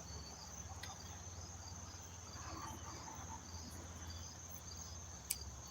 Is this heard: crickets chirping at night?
yes